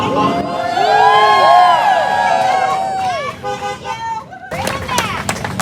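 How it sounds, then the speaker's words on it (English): Several passing car horns toot and blare in overlapping bursts, some long and some short, over a cheering crowd of protesters with people shouting. "Thank you to all the people in the cars going by honking."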